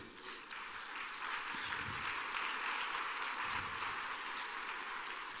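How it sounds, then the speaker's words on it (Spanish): A church congregation applauds during a sermon, steady broadband clapping that holds at an even level for several seconds, heard from a distance and fairly faint, with a few low thumps underneath. "démosle un aplauso a Él"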